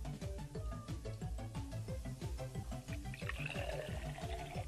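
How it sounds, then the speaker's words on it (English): Tap water running steadily into a baby bottle in Mother Simulator, a faint trickling stream under bouncy game music, the pitch of the pour rising slightly as the bottle fills. "this fresh water just filling up the whole bottle"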